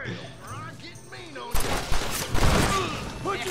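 Rapid gunfire in a Red Dead Redemption 2 firefight crackles across the clip, starting after a quiet opening with distant voices and turning into dense, overlapping bursts of shots, with shouting voices mixed in.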